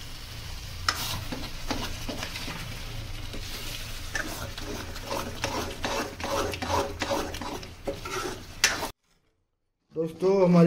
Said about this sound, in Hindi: अब पेस्ट डाल रहे हैं पाव भाजी का, और हम इसको मिक्स करेंगे।